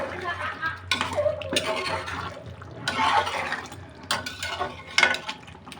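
Beef curry being stirred in a pot with fried onions, slow-cooked over a jali-style steamer, giving scraping and wet clatter strokes of a spoon against the pot, close and moderate in volume.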